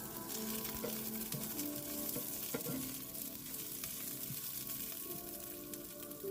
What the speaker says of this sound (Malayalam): രണ്ട് പച്ചമുളകുണ്ട് അതുകൂടെ ആഡ് ചെയ്യാം നല്ലപോലെ ഇളക്കി യോജിപ്പിക്കാം